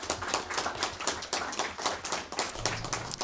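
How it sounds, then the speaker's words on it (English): Applause at a school board meeting honoring a school band comes as a modest round of clapping, individual hand claps audible in a quick, uneven patter from a smaller group. "So I'd like a round of applause for the Chapman Band."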